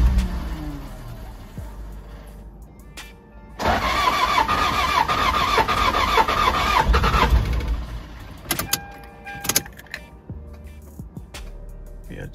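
A Toyota Land Cruiser Prado J90 with a 1KD diesel engine starts on its first attempt after injector seat work: a loud cranking burst catches into a rough, rumbling idle for a few seconds, then fades, followed by faint clicks and thumps.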